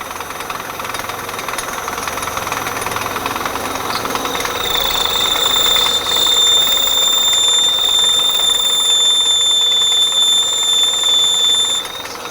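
A metal lathe cutting steel and throwing off shavings makes a continuous loud grinding chatter with a steady mechanical drone. A sustained high whine joins midway through, and no voices are heard over the machine.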